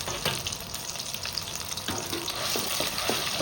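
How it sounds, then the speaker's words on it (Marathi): Chili chutney made from soaked, stone-ground dried red chilies, with onion and garlic, frying in plenty of oil with no water, giving a steady close sizzle with occasional stirring scrapes, no talk. "चटणी अशी तडका देऊन शिजवायचं"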